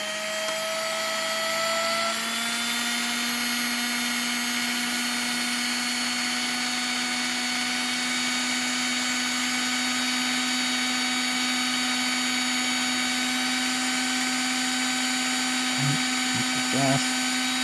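An electric drill with reflective tape on it spins at a steady speed, making a constant whine and hum with a few faint clicks near the end.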